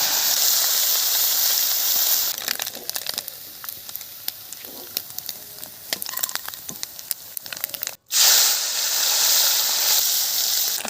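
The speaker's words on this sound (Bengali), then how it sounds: "ভাজা হয়ে গেছে মাছ, হালকা করেই ভাজছি।" Small mourola fish frying in hot oil in a wok, giving a loud, steady sizzle with crackling pops throughout, cutting out for a moment near the end before the hiss resumes.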